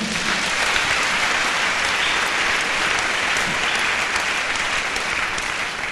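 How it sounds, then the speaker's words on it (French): A church congregation applauds at a religious service, a dense, loud, sustained clapping that fills the space evenly from start to finish. "Acclamons le Seigneur."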